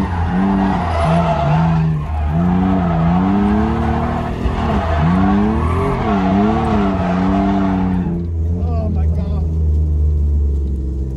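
Mitsubishi 3000GT drift cars running tandem at a drift event, a loud continuous engine roar with wavering tire squeal and skidding that swings up and down in pitch, fading at the end.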